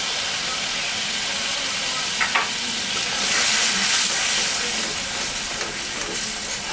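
Masala with chicken sautéing in a pan for chicken lollipop, a steady close sizzle and frying hiss with brief stirring scrapes and a slightly louder steamy surge partway through.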